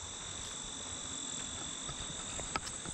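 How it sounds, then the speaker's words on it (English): Steady, continuous cricket chirping fills the air, a high shimmering trill with no pauses, outdoors at moderate volume. "Do you hear the... What are they, crickets?"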